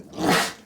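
A person nearby lets out a single short, breathy sneeze that swells and fades within a fraction of a second, with no one talking over it.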